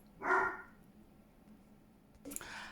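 A single dog bark sounds early, then quiet, followed by a brief clatter and a short second burst near the end.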